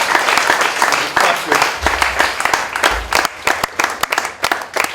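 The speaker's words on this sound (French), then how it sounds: "m'effacer pour qu'on les applaudisse pour ce qu'ils ont fait" Applause at a Francophonie Day celebration hosted by the French ambassador in Rwanda, with sharp, close individual claps over a dense crowd clapping, interspersed with someone speaking briefly.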